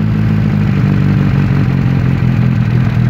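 Carburetted GAZ-69 engine running on choke during a test start, a loud, close, steady idle with rough rhythmic clatter throughout, no voices.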